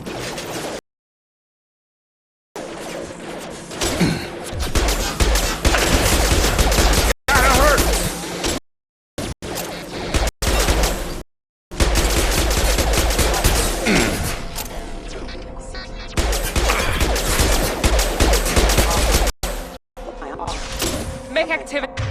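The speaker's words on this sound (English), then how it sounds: "Hear that? Sounds like Fenris mechs." Fenris security mechs attack in Mass Effect 2 with heavy bursts of gunfire, impacts and crashes that play loud and dense in stretches broken by short silent gaps. Voices speak over the combat.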